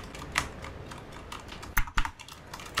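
Computer keyboard typing during play of Grand Theft Auto 3, a run of quick close clicks with two sharper louder key strikes near the end, over low game background noise.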